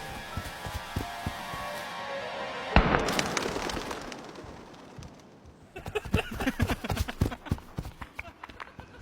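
Fireworks go off in sharp bursts: a loud bang partway through, then a dense series of crackling pops, with some quieter stretches between them.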